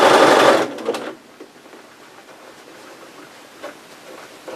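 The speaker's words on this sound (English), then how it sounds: "sew it right on through the material onto the bias" A sewing machine stitching bias binding onto a scrap-fabric apron, a loud rapid whirring run for about a second that stops, followed by faint clicks and light handling of the fabric.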